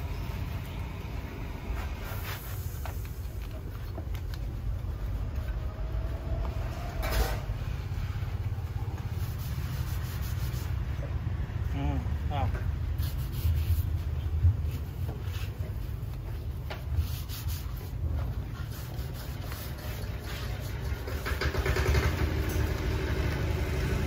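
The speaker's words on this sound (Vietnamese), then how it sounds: "nổ máy cho anh em xem luôn." A Japanese NF170 engine started and left running, a steady low mechanical drone with a faint high whine, continuous and fairly close, with occasional clanks over roughly twenty-four seconds.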